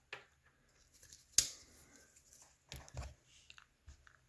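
A Victorinox Compact multitool's small spring-loaded scissors snip several times in a quiet room, sharp isolated clicks with light metallic snaps between them.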